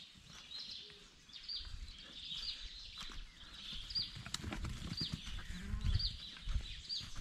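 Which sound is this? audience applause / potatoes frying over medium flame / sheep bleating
sheep bleating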